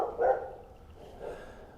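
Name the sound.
dogs barking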